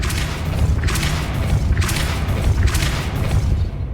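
Repeated Depulso spell blasts in Hogwarts Legacy, four loud booming bursts at roughly one-second intervals, each a sharp thump with a whooshing tail over a rumbling background.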